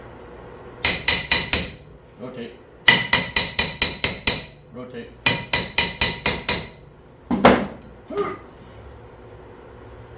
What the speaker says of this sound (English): Probably just gotta give it a love tap. Where'd you put your hammer?